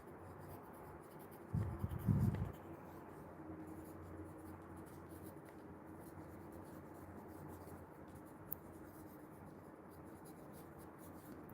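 Pencil lightly sketching leaf markings on paper, a soft scratchy rubbing with a brief louder burst of strokes early on, then faint continuous scratching under quiet room noise.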